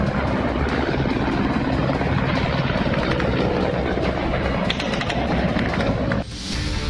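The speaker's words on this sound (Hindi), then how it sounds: "रूस के हेलीकॉप्टरों की गड़गड़ाहट यूक्रेन के आसमान में साफ सुनाई दे रही है।" Russian military helicopters over Ukraine during the invasion produce a dense, continuous low rumble with broadband roar that holds steady, then drops off abruptly near the end.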